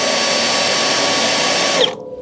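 A power drill with a spot weld cutter bores out spot welds on the outer panel of a hot rod Willys fender. It gives a steady, loud, high whine that cuts off abruptly near the end.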